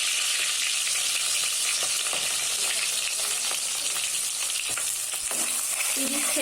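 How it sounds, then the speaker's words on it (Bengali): Chopped onions frying in hot oil with cloves, black pepper, cardamom, bay leaf and cinnamon, a steady close sizzle with occasional stirring scrapes and clicks, no talking. "30 সেকেন্ডের জন্য ভেজে নেব।"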